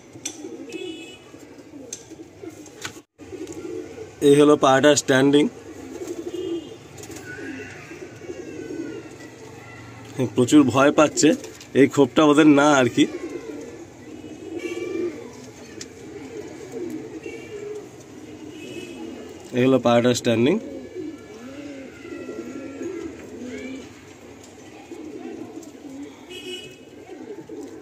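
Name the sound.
pigeons in a loft cooing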